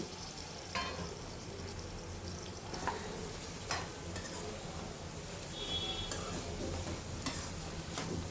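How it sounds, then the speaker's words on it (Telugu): Ridge gourd pieces softening in hot oil give a low, steady sizzle while a spoon scrapes and stirs the pan, with occasional sharp clicks of metal against the vessel. "బీరకాయ ముక్కలు ఒక పావు గంట దాకా మగ్గనివ్వాలి మధ్య మధ్యలో కలుపుకుంటూ మగ్గనివ్వండి"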